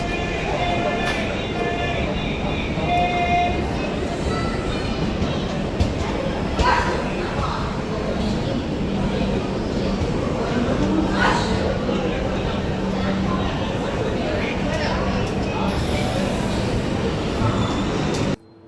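The Jaipur–Coimbatore AC special, hauled by a WAP-7 electric locomotive, pulls into platform 2 at Kacheguda station, a steady rumble of rolling wheels that goes on throughout under someone speaking.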